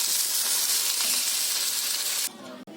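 Onion and tomato fry in oil with a loud, close, even sizzle that cuts off sharply near the end, leaving a quieter background.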